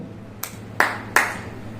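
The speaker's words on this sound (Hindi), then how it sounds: "तो 3 बार ऐसा ताली बजा" Three sharp hand claps, unevenly spaced and close by, the last two louder than the first, heard alone over a faint steady hum.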